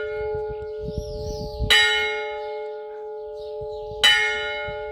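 Church bell in a large village on the Greek island of Evia, rung by hand by the priest: two loud, ringing strikes about two seconds apart, each leaving a long sustained hum, with low rumbling and handling noise between.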